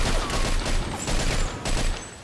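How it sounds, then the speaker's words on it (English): A grease gun fires in the Mafia 2 video game, sounding as a loud, sustained spray of rapid automatic fire with short gaps between bursts. "I actually like the grease gun better than the Tommy gun."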